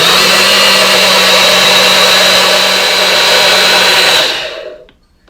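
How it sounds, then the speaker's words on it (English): A loud blender whirs steadily, blending mango horchata with water for several seconds. It then cuts off and winds down into near silence. "And we're going to go ahead and blend it completely."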